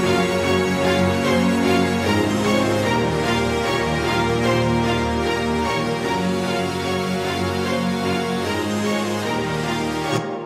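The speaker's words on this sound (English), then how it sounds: "listen to the brass and the orchestra without the analog brass and winds" A full orchestral passage of brass and woodwinds with sustained, dense harmonies swelling steadily for several seconds before cutting off abruptly.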